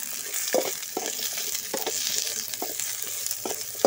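Chopped onions sautéing in a pan for an avarai flower egg stir-fry, a steady close sizzle broken by intermittent stirring scrapes, no talking.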